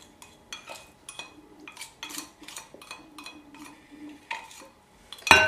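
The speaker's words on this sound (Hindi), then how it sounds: "और अब इसको हम फिर से मिक्स, अच्छी तरह से मिक्स होने तक विस्क करेंगे।" Yogurt for a carrot and pomegranate raita is whisked in a bowl, giving a run of quick, close clinking and scraping taps in short irregular bursts, ending with a louder clatter, with no talk.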